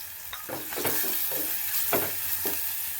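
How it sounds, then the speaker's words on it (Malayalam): Steady sizzling of evenly cut thin slices frying in hot oil until golden brown, with a few scraping stirs of a utensil cutting through the crackle. "ഇത് വറുത്തെടുത്ത് പൊടിച്ചെടുത്താലും മതി കേട്ടോ"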